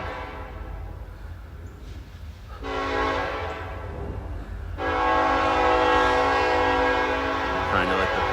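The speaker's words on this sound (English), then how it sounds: "Trying to let the train pass here on South Parkway" A train passing on South Parkway in Memphis, its low rumble continuous while the horn sounds in two long, loud blasts, the second held to the end.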